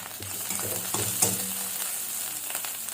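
Bitter gourd filling frying in a pan as it is stirred, a steady sizzle with a few scraping stirs and a light utensil clink, close and without talk.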